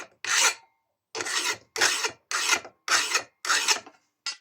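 A metal file rasps along the underside of a nicked, burred lawn mower blade in six separate strokes, each a close, coarse scraping pass with short pauses between.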